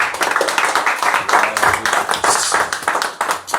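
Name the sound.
congregation applause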